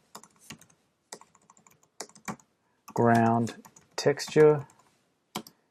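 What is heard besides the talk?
typing on a computer keyboard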